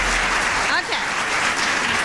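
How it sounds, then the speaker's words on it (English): An audience at a 1996 political satire show for the Washington press corps claps steadily throughout, with a brief voice rising over the noise partway through. "And what I need is some enthusiastic applause."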